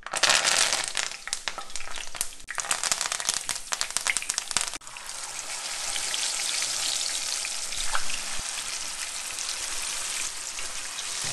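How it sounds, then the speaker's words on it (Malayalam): Curry leaves and fish frying in hot coconut oil: a sharp, loud crackling burst as ingredients hit the pan, then a steady, softer hissing sizzle that continues without pause. "ഇനി നമ്മുടെ വെളിച്ചെണ്ണ നന്നായിട്ട് തിളച്ച് കഴിയുമ്പോഴാണ് നമ്മൾ ഇതിലേക്ക് കറിവേപ്പില ഇടുന്നത്"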